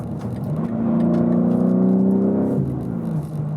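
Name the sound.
2022 BMW G80 M3 accelerating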